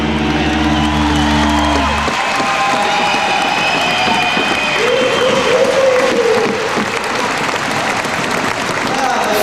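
A crowd at a BMX park competition in Sydney erupts into loud, sustained cheering, clapping and whoops. A low rumble is cut off early, and the roar carries on dense and close for the rest.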